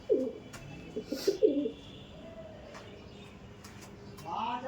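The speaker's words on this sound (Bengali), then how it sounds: "দারুণ হেডলাইনের একজোড়া অন্ধ্রা পায়রা রয়েছে" A pair of Andhra breed pigeons coo softly nearby, a few low throaty calls in the first seconds followed by quieter background sounds.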